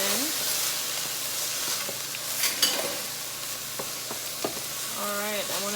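Ingredients stirred in a hot pan with sofrito seasoning for a breakfast dish, a steady sizzle under scraping spoon strokes and occasional clinks, with faint talk in the background.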